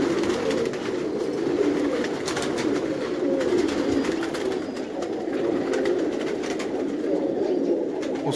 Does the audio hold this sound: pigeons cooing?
yes